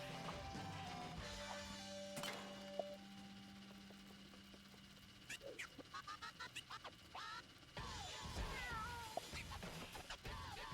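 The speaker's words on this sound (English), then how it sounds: "Why did that box meow at me?" A box in LittleBigPlanet lets out a run of cat meows, several short quick mews in a row, then a few louder drawn-out ones, over quiet game music with no talking.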